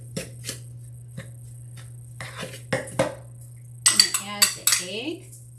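Spoon scraping and clinking against a mixing bowl while blondie brownie batter is stirred, a series of close, sharp metallic taps that grow busier and louder toward the end over a low steady hum.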